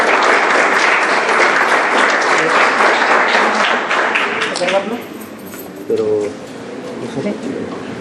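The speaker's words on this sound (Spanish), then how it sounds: "la vamos a recibir con un aplauso" An audience at a medical conference applauds to welcome a guest speaker from New York, a loud sustained clapping that tapers off over several seconds into quieter room sound.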